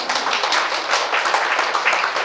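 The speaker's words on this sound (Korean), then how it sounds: "여러분 박수 한번 쳐주세요." An audience at a Korean business seminar claps together in a thick, continuous burst of many hands, loud and near, with no talk over it.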